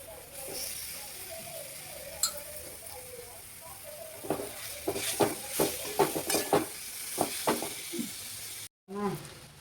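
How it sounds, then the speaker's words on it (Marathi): Grated sprouts sauté in hot oil with a soft sizzle, then a burst of spatula scrapes and metal clinks against the pan, close and fairly quiet, with a faint voice in the background. "हे किसलेले हे कोंब आहेत ना कणकेचे ते तेलामध्ये व्यवस्थित परतून घ्यायचे"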